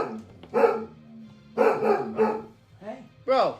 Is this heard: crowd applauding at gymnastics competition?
no